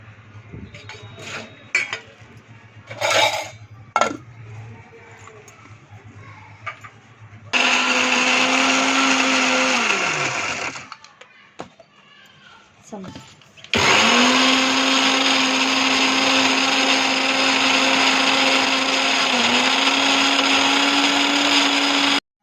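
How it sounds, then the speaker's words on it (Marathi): A mixer grinder whirs loudly in two long bursts, grinding a red chilli spice paste, separated by a pause with light clattering and knocks before it starts. "मिक्सरला लावू मग मी तुम्हाला दाखवते"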